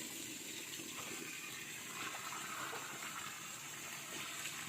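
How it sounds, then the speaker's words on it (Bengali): Water gushing steadily into two tubs set out for washing clothes, a continuous close rushing pour with no pauses and no voices. "দুটো গাবলায় জল নিয়ে নিলাম"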